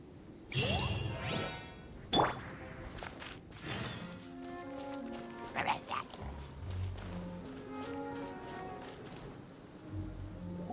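Rain pours steadily across a stormy Genshin Impact storm barrier, with a few sharp whooshing gusts and chiming accents rising over the wash of rainfall, and low musical tones layered underneath.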